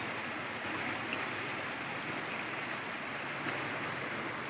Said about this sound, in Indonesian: Sungai cilik.